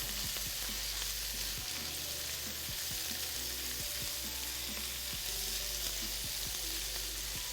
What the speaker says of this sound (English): I like to cook the veggies a little bit on their own first